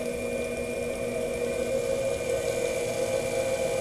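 Two Minarik-driven electric motors hum steadily, one running at half the speed of the other, producing a constant mechanical drone with a clear tonal whine and no voices.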